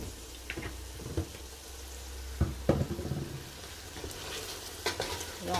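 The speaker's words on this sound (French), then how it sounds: "Il faut vraiment remuer." A spoon stirring food as it fries in a little oil in a pot, with a steady soft sizzle broken by a few scraping knocks against the pot, close and fairly quiet, without any talk.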